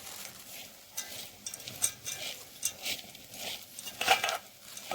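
Spiced masala being stirred in a metal cooking pan, with uneven scraping and clinking strokes of a spoon against the pan and soft sizzling patter, close and moderately quiet, no voices.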